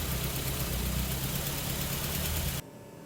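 A barn-find Triumph Spitfire engine, running for the first time in 43 years, chugs loudly and steadily up close for a few seconds before cutting off abruptly.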